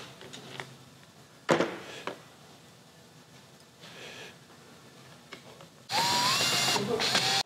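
A screwdriver works Phillips head screws loose on a Honda Civic heater mode actuator, giving brief mechanical clicks and a short burst of loud ratcheting near the end, with quiet pauses between.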